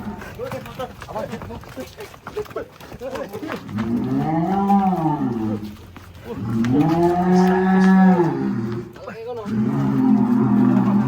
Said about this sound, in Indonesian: Sapi raksasa turun dari truk.